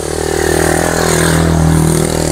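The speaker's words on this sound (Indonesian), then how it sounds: "maaf, lagi ada motor lewat ini." A motorcycle passes close by with a loud, steady engine drone that holds for the whole stretch and never fades.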